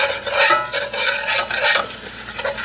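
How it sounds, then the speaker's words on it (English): Flour is stirred into melted butter in a pot for homemade slow-cooker macaroni and cheese, making a close, continuous scraping swish with a soft sizzle, in rhythmic pulses of the spoon, with no talk. "And I'm going to stir this up until it combines"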